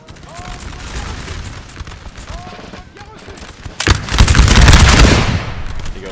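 Line infantry musket volleys in Napoleon Total War crackle in rapid, ragged bursts, building into a loud, dense roar of massed fire midway through the battle.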